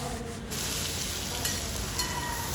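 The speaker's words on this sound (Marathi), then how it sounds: "आता हे सर्व मी चांगले परतवून घेणार आहे" Potato and brinjal being sautéed together in a pan for Bhogichi Bhaji, a steady close sizzle with soft stirring scrapes running throughout, no voices.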